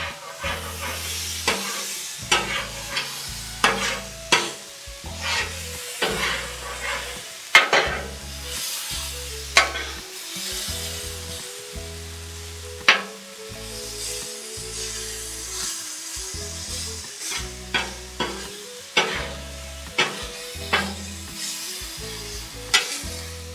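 Chicken and vegetables sizzle on a Blackstone griddle in a constant crackling hiss, broken by sharp spatula scrapes and clacks as pieces are turned, with no talking.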